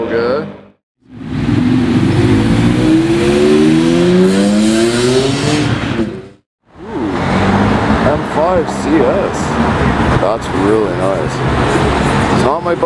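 A loud BMW M5 CS engine roars and revs with rising, sweeping pitch, cutting out briefly twice before surging again, with voices speaking underneath.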